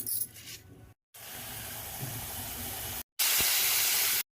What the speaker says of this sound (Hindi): मेरी कढ़ाई जो है गर्म हो चुकी है तो चलो छौंक लेती हूँ